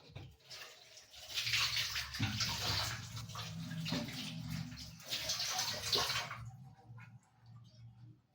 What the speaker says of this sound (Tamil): 2 கேரட்டு நம்ம வாஷ் பண்ணிக்கலாம்.